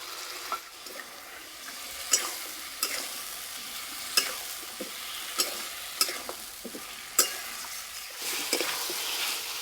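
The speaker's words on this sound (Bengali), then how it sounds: "আলুর সঙ্গে মশলা ভালো করে কষিয়ে নিয়েছি।" Spice paste and potatoes stir-fried in a pan for an egg bora curry, with soft continuous sizzling broken by repeated clacks of a spoon scraping and stirring, no talking.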